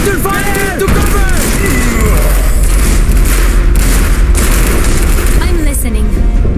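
Battle in the Iron Harvest campaign, with booming explosions and rattling gunfire in a loud, dense war mix, while shouted in-game voices call out over the combat.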